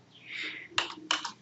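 A few soft keystrokes on a computer keyboard while entering an SAP transaction code: a faint hum, then two quick clusters of clicks, close but quiet with no talking.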